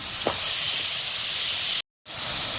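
A steady, loud hiss of a spoonful of water hitting hot spiced gravy in a pan, broken by a sudden brief dropout before the sizzling resumes.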